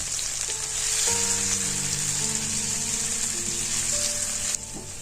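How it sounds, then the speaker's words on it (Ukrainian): Potato pieces sizzle and crackle in hot oil, a steady frying hiss, with soft background tones playing underneath. "Треба гарно, дуже гарно обсмажити шматочки картоплі до гарного золотавого кольору."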